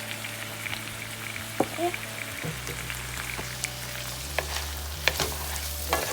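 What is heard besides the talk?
ingredients sizzling and being stirred in a pan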